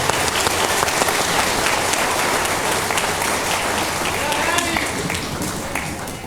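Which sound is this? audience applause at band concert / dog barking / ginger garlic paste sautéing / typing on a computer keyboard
audience applause at band concert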